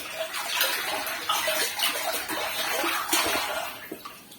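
Water splashes and sloshes continuously inside a water tank as someone moves around in it, a busy, close, churning wash of sound without pause.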